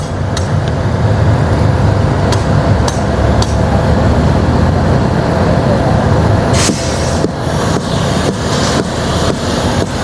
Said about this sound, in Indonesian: Dibantu dengan palu ya untuk memotong nih besi-besi.